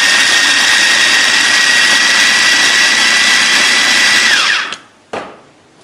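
An electric food chopper grinds ingredients at a loud, steady high-pitched whir for about four and a half seconds, then winds down and stops, followed by a few short clunks.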